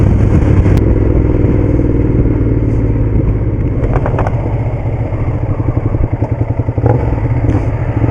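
A 2011 Ducati Diavel engine roars loudly and close in sport mode, its revs climbing hard with a rapid throbbing pulse as it accelerates.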